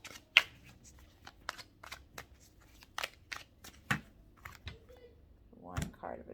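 Tarot cards are shuffled and drawn by hand: sharp, close snaps and riffling clicks come in irregular bursts, separated by short quiet gaps.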